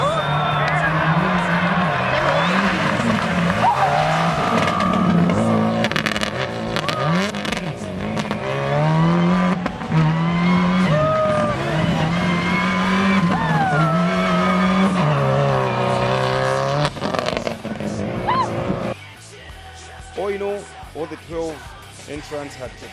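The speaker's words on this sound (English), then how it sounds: "Singh Jr., this time navigated by Sajid Khan in their Subaru Impreza N16" Subaru Impreza N16 rally car on a stage, engine revving and tires squealing through sustained skids, under loud commentary with crowd noise.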